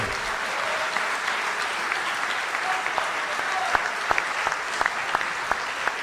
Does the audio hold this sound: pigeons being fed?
no